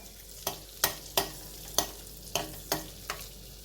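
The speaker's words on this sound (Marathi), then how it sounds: "हा फक्त थोडासा टॉस करून घेणार आहे मी" Spring onion tossed in a pan with butter, about eight sharp scraping strokes in an uneven rhythm over a faint sizzle, close and clear with no talking.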